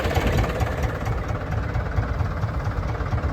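A fishing boat's engine runs close by with a constant low rumble and rapid rhythmic chugging, unbroken throughout.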